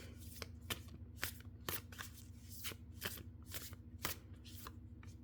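Tarot cards shuffled by hand, producing a series of crisp riffling snaps and soft slaps at an irregular rhythm, close up and quiet against a faint steady hum.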